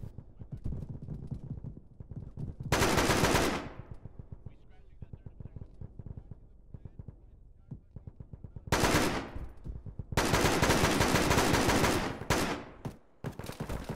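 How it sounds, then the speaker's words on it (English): Rapid bursts of automatic gunfire in an Arma military firefight, loud close volleys separated by stretches of faster distant rattling, with voices talking over the action. "Seriously, people gotta stop shooting me."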